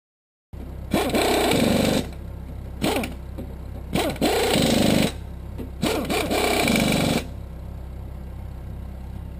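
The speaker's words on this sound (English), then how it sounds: "I'm just going to snug them up and I'm going to hit them with a four-way." Trailer wheel lug nuts run down with a power tool near an air compressor: four separate whirring, grinding bursts of about a second each, loud and close, separated by short pauses over a steady background hum.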